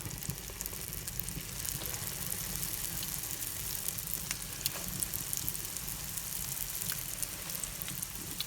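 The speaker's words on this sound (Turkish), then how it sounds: "Pişilerimiz yağımız kızdı. Artık pişilerimizi yağın içine atıyoruz şu şekilde." Pişi dough frying in hot olive oil, a steady soft sizzle and crackle with faint pops that holds evenly throughout, quiet and close with no talk.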